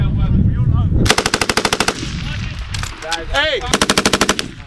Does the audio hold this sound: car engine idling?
no